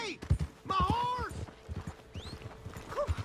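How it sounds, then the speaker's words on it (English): Horse hooves clip-clop in Red Dead Redemption 2, a quick run of close, uneven knocks mixed with a short whinny, while voices talk over them. "Hey! My horse!"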